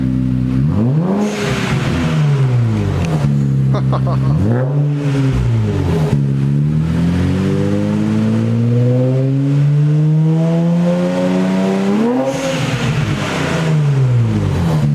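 An Infiniti Q60 with an aFe Takeda catback exhaust and HKS downpipes revs up and down repeatedly, loud and close, its pitch sweeping high then settling into a sustained rising drone, no talking.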